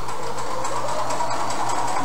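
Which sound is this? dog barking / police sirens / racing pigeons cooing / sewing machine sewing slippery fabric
sewing machine sewing slippery fabric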